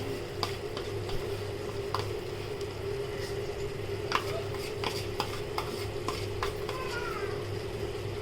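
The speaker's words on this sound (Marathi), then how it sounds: "भाजलेले खोबऱ्याचं वाटण म्हणजे मी याच्यामध्ये कांदा सुकं खोबरं थोडं आलं लसूण आणि हिरवी मिरची ते सगळे भाजून वाटण बनवलं ते आता याच्यामध्ये ॲड करतो" A roasted masala paste of onion, dried coconut, ginger, garlic and green chilli is stirred into a cooking pan, giving soft repeated scrapes and squishy stirring over a steady low hum, with faint background voices.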